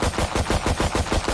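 A Vandal rifle in Valorant fires in fast full-auto, about eight sharp, loud, evenly spaced shots in just over a second, with no other sound around them.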